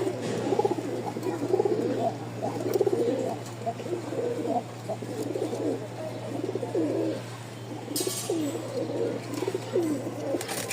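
Pigeons coo repeatedly in soft, rolling phrases, several birds overlapping at close range over a steady low hum, with a brief rustle near the end.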